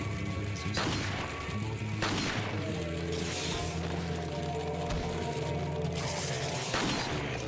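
A gun in Resident Evil 4 fires in several loud, broadband cracks spaced a couple of seconds apart. Clanking mechanical game noise and a busy background fill the gaps between shots.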